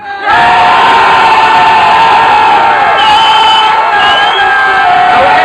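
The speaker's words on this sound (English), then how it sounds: "So, for Mr. Grist, if you like him to win, make some noise now" A crowd at a King of the Mic final rap battle cheers and shouts to vote for a contestant, a loud, sustained wall of screams, whoops and yells rising quickly and holding strong throughout.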